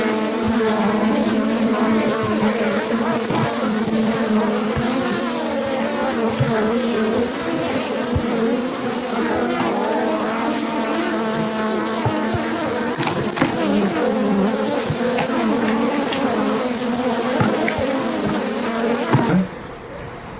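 Loud, dense, continuous buzzing of a honeybee swarm close around a hive as a swarm is collected, droning steadily for the whole stretch before cutting off abruptly at the end.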